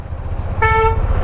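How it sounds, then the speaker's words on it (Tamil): A vehicle horn on a busy Delhi street gives one loud, steady honk of about a third of a second, sounding over a constant low rumble of traffic and engines. "ஏன்டா ஒரு ஹார்ன் கூட அடிக்க மாட்டிங்களாடா?"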